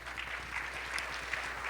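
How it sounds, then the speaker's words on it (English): An audience applauds an award winner at a workforce development summit, steady clapping that sounds fairly distant and muffled and continues evenly throughout. "Chris, give him a big round of applause"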